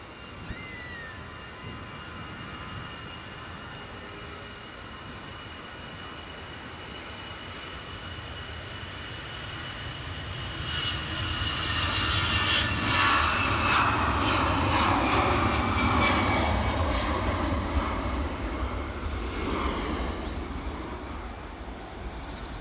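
EasyJet airliner moving at Edinburgh airport, its engine roar and whine swelling from a steady distant hum to a louder, nearer rumble midway before easing slightly.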